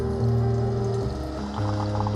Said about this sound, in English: now it's going to brew the hot water through the K-Cup